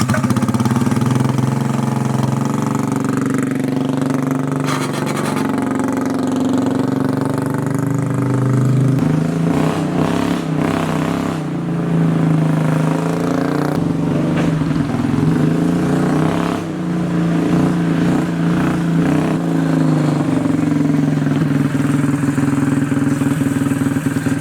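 A motorcycle engine running steadily while being ridden around a garage area, a loud, close, continuous drone with shifts in pitch as the throttle changes, no talk.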